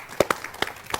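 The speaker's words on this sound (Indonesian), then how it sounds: "Tangan tepuk ya Bu, tangan tepuk." An audience at a pre-dawn sahur religious gathering claps hands in a few scattered, uneven bursts, sharp and fairly close, over a low room murmur.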